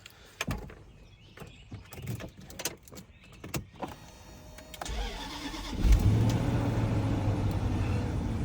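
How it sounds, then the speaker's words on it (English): A 2006 Range Rover L322 supercharged SUV cold-starting after sitting a couple of days: door and cabin clicks, then the starter cranks and the engine catches into a steady, close idle. "start it up, do a little cold start on it"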